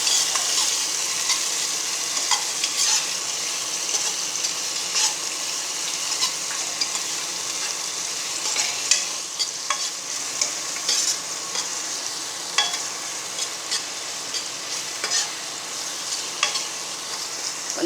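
Onion and chilli sautéing in a pan, a steady close sizzle running throughout with repeated spoon scrapes and stirs at an irregular pace.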